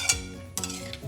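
A spoon stirs tomato curry in a pan, giving a few scraping, clinking strokes with a faint sizzle beneath, close and fairly quiet.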